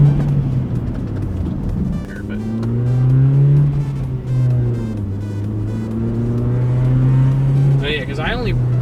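A 2002 Honda Civic with its catalytic converter removed, driving and accelerating: a loud, steady engine drone rising and falling in pitch through gear changes, heard from inside the car, with people talking over it.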